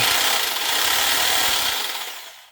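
A NOWA WY 750bl electric jigsaw runs with a loud, steady buzzing whir up close, holding for about two seconds before winding down and fading out.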